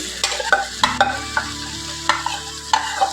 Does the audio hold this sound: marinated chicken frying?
yes